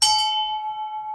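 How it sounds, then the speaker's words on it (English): A single bell struck once, a sharp bright clang that settles into a long, steady ringing tone, loud and close with no other sounds. "I've also rung the bell"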